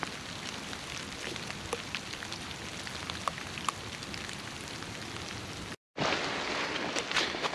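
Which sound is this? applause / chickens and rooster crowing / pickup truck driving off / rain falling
rain falling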